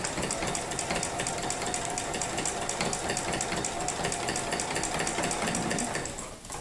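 A sewing machine runs a locking stitch during free motion quilting, its rapid, even needle chatter loud and continuous, then easing off at the very end.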